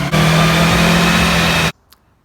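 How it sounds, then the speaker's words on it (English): Subaru Forester engine revving hard on a dyno, a loud sustained roar with a steady droning tone for over a second and a half, then cutting off abruptly into near silence. "he looks like he's revving it up right now"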